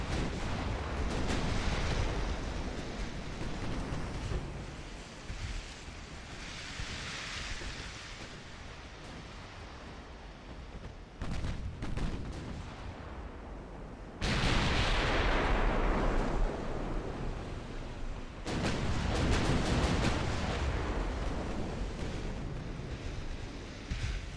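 Naval artillery thunders in the warship game Ultimate Admiral: Dreadnoughts, with heavy booming salvos and long rumbling roars that swell and fade over a constant wash like surf, loud and continuous with no talk.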